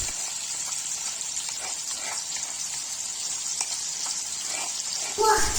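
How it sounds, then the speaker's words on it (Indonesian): Ground sambal chili paste sautéing in a pan for fried snacks, a steady close sizzle with faint stirring scrapes, ending in a brief louder clatter. "sambal yang sudah dihaluskan tadi ini kita tumis lagi"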